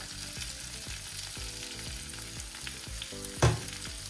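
Mixed vegetables and cherry tomatoes in a hot pan on a switched-off burner, with a constant close sizzle and rhythmic stirring scrapes, plus one louder clack near the end; no one speaks.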